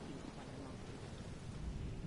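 Steady rain with low rumbling thunder in the outdoor game world of The Elder Scrolls Online, a continuous dense hiss over a deep roll with no distinct separate strikes.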